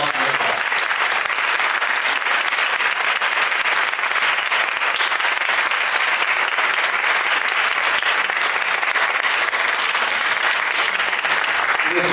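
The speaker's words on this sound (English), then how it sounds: "round of applause for Nick." A forum audience applauds steadily at a Raleigh mayoral candidate event hosted at a Muslim youth community center, the clapping dense, sustained and loud throughout.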